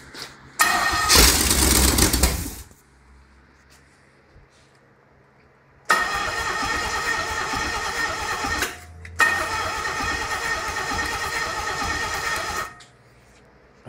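An International Scout with an IH 304 V8 and a converted HEI/Duraspark ignition cranks and fires in three loud bursts, the last two running for several seconds each before cutting out, close by with quiet gaps between.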